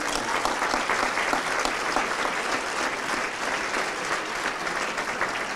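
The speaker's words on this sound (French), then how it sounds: "Et ça, ça s'applaudit." Steady, dense audience applause at an acoustic RTS live concert, a continuous wash of many hands clapping without pause throughout.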